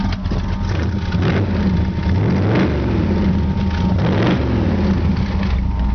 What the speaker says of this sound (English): Awesome sounding exhaust.